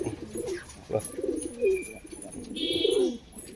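Close pigeon cooing, several soft throaty warbling calls in a row, with a brief higher chirp in the background.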